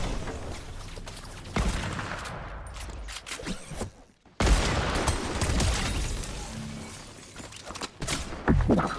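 Video game gunfire in a soldier combat game, loud dense bursts of shots and crackling impacts coming in waves, with a brief silent gap midway.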